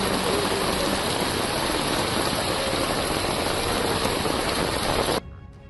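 Floodwater rushes along Avenue Road in Chickpet, Bengaluru, after heavy rain, sweeping away bikes. It is a loud, dense, continuous roar of water with no voices, then it cuts off abruptly near the end.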